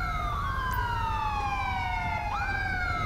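Ambulance sirens from the GTA 5 game wail continuously with slow rising and falling sweeps over a low traffic rumble, loud and steady throughout.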